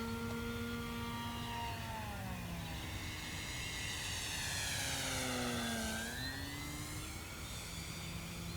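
Durafly Rare Bear 680mm RC model airplane flying inverted, its electric motor and propeller giving a steady high whine that sweeps in pitch as it passes, loud and continuous with no talking.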